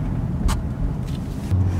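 Idling and lugging engine rumble of a manual-transmission car being driven by a beginner learning stick, a steady low drone with a brief bump partway through and no talk.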